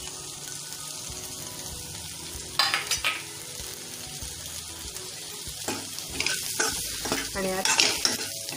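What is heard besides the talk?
stuffed brinjals sautéing in oil with onion-garlic masala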